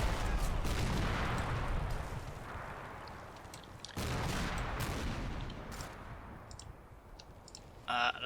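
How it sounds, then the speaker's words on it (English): Distant rattling gunfire and crackling shots from a small firefight with infantry and a BTR in a Combat Mission: Black Sea battle in snow, steady clattering bursts with a brief louder burst near the end. "we also have a little bit of a firefight with these guys here"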